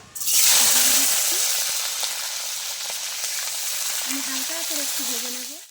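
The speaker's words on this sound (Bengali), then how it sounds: "পনিরটা তো হয়ে গেছে ভাজা" Steady, loud sizzling of paneer frying in hot oil in a kadai, a continuous hiss throughout with faint clinks and a low hum underneath.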